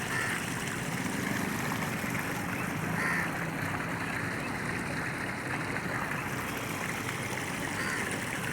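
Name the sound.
river water flowing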